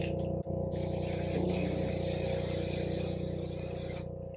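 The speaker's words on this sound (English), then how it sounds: "So we're gonna spray the top of our hair." Garnier Fructis Sleek and Shine hairspray mists steadily over the top of the hair, one continuous close hiss lasting about three and a half seconds before cutting off, over a low steady hum.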